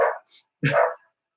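Dogs bark twice in quick succession close by, sharp loud yips separated by a short pause, then silence.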